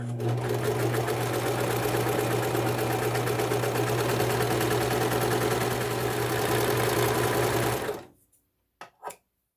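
A serger sewing machine stitches along the fabric edge of a pet scarf with a fast, steady mechanical whir, loud and close for about eight seconds, then stops, followed by a couple of faint handling clicks.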